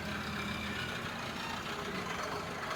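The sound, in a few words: vehicle passing on a single-lane road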